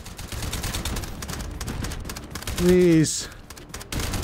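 Gunfire in the VR shooter Hot Dogs, Horseshoes & Hand Grenades, on a tower custom map: a fast clatter of shots under a player's talking, with a brief electronic tone partway through.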